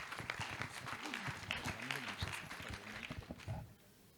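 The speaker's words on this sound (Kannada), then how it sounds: "ಖಂಡಿತ ಚಪ್ಪಾಳೆಗಳನ್ನು ನೀಡೋಣ" Applause from an audience at a music and dance festival, continuous clapping for about four seconds, somewhat distant and muffled, mixed with low murmuring voices before it tails off.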